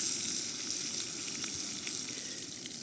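Tesco supermarket steak sizzles steadily in a hot pan, a dense continuous frying hiss with faint crackles throughout, close and moderately loud with no talking.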